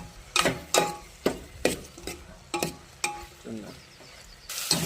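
A spatula stirs chopped tomatoes and green chillies around a pan for a flat-bean curry, giving a series of scraping strokes at a steady rhythm with a soft sizzle underneath.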